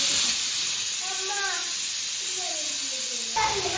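A pressure cooker of beef on a Kerala kitchen stove releases a steady, loud hiss of steam once its whistle is taken off, with someone talking over the continuous rush.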